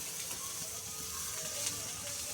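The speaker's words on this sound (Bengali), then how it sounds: "কাজু কিশমিশগুলো ভাজা হয়ে গেল" Cashews and raisins fry in white oil in a wok, giving a steady, even sizzle that stays low and continuous throughout without any talk.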